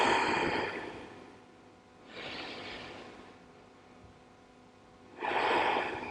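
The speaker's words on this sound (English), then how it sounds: "Take nice deep breaths." Slow, deep breathing during a yoga session, with three audible breath cycles. The inhales and exhales are close and breathy, separated by quieter pauses.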